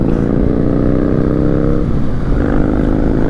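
Exhaust of a Honda Rebel 500 motorcycle while riding on the road, a steady loud engine drone with shifting pitch across the whole stretch, no voices.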